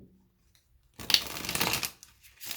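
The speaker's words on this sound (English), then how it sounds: "one more shuffle, and then I will cut" A tarot card deck being riffle-shuffled, one quick burst of rapid fluttering card clicks after a silent pause, followed by a brief softer shuffle of the cards, close and clear.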